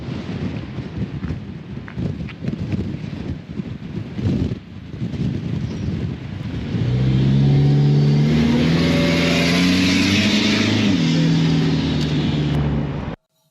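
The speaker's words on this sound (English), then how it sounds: "So Chris, we went for a drive, went for a spin on the testing track." Car on a testing track with a transmission lockup kit fitted, a rough low rumble building into a loud, steady engine drone that rises in pitch, shifts down briefly, then holds, with no talking.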